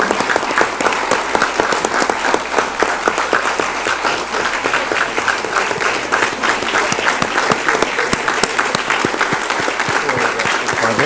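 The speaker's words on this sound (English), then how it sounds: "Let's give them a round of applause." A large audience at a county school board business meeting applauds long and hard, a loud, continuous roar of clapping hands that holds steady throughout, with no speech over it.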